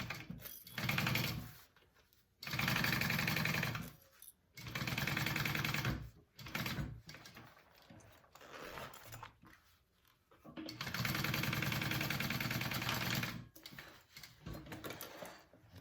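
A sewing machine runs basting stitches to attach a zipper to a bucket bag, running in several steady bursts of whirring with brief pauses between them. The sound is fairly quiet and there is no talk.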